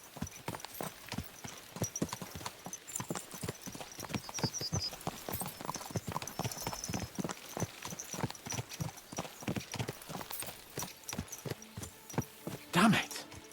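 Horses clip-clopping at a steady pace in the video game Kingdom Come Deliverance 2, a continuous rhythmic run of hoofbeats close by with a voice talking over them.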